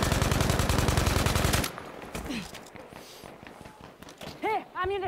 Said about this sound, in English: I can hear the bullets plinking off.